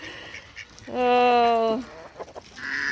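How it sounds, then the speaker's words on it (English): Domestic ducks on a farm pond let out a single loud, drawn-out nasal call near the listener, with a brief voice and faint bird noise around it. "And my duckies."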